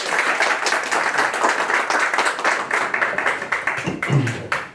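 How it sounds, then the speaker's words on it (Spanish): An audience at a formal closing ceremony breaks into steady, dense applause, a continuous wash of clapping from many hands that holds for the whole stretch before thinning slightly at the end. "Les pido por favor un fuerte aplauso para el licenciado Gilberto Mendoza."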